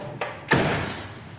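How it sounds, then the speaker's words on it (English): Door of a 1967 Pontiac GTO being shut, a light latch click followed by a solid heavy slam that rings out close and briefly. "Doors open and close just as they should."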